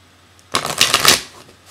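Oracle cards being shuffled up close: one short, crisp riffle of flapping card edges that rises quickly and fades out.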